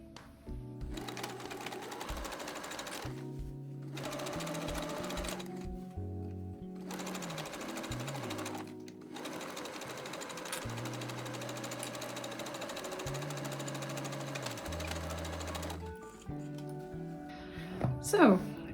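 A sewing machine stitches beanie fabric in bursts of steady whirring, pausing and restarting several times, close and clear, with a person talking over parts of it.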